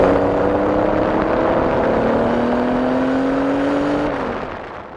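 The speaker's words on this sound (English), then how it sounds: "The two were driving a street-legal 2-seat race car" A street-legal two-seat race car driven around the Ohio State campus holds a loud, steady engine whine that climbs slightly in pitch, then fades as it eases off near the end.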